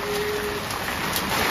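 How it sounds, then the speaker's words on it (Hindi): Heavy rain pours at Panchganga temple in Mahabaleshwar, the point where five rivers meet: a steady broadband hiss of downpour and drops on surfaces, close and continuous with no talk. "बारिश बहुत बढ़ गई है"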